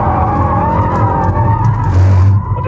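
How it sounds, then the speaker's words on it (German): A Mercedes-AMG car drifting gives a loud continuous tire squeal over the engine, swelling near the end as the car slides sideways under throttle. "Du kannst aber natürlich mit dem Auto auch schön driften, indem du einfach mal einen abrupten Gasstoß gibst"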